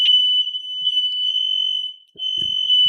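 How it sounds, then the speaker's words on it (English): A smoke detector sounds a loud, steady high-pitched tone that barely stops for the whole stretch, with one brief dip near the end and faint voices underneath. "got all the alarms going off over there. Cell phones, smoke detectors"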